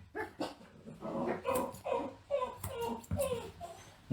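Dogs in a grooming salon bark at the telephone. Several loud, close barks and whimpers break out over a few seconds while a person talks over them.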